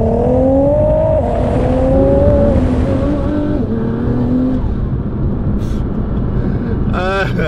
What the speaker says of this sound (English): Like the turbos sort of spool up and they make a difference. It's slightly different sound.